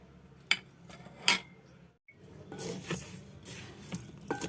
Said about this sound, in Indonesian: Lalu diaduk-aduk sampai tercampur merata.